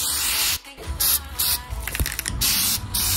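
Aerosol spray paint hisses onto turn signal pieces in several loud bursts of varying length, with short pauses and faint rattling between them, close to the listener.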